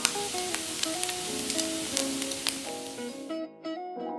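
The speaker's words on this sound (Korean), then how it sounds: "식용유 약간 두르고 당근 넣고 볶아줬다" Carrots stir-fry in a little cooking oil in a pan with a steady hiss and sizzle under background music, stopping abruptly just before the end.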